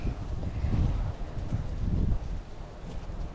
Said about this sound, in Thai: อุ้ยลม